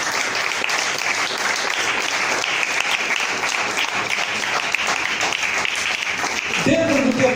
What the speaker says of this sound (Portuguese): Quem pode aplaudir mais uma vez?